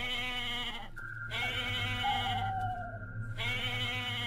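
A goat on a rooftop bleats with a drawn-out, wavering cry heard several times over a steady humming background with no voices.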